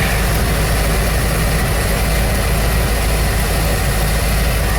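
A 1993 Ford Econoline van engine idles with a steady, loud, close rumble and constant mechanical vibration, unbroken throughout with no talking.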